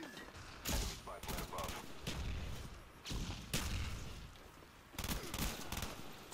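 Gunfire in the video game Black Ops, with G11 burst-fire weapons: several loud, close volleys of rapid shots in quick succession, with a low rumble and a voice talking between bursts.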